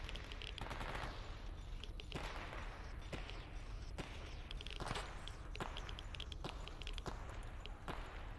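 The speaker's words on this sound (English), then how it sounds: "I can't tell if that guy is shooting at me. I think he is." An enemy fires at the player in the video game STALKER: faint, sharp shots crack out at irregular intervals, roughly one per second, over a rough, noisy background.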